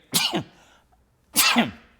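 Two sharp, explosive bursts a second apart, like a person sneezing or coughing close up, with silence in between.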